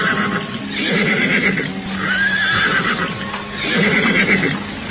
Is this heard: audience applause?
no